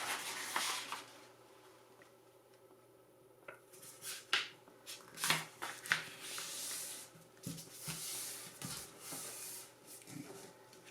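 Paper folded by hand for an origami owl: close crisp rustles, sharp creases and soft sliding scrapes in irregular bursts, with quiet gaps between and no talking.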